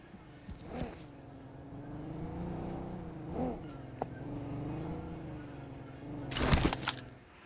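A vehicle engine in the BGMI battle royale game hums and swells as it approaches, its pitch rising and falling in waves, with a sharp burst of noise near the end.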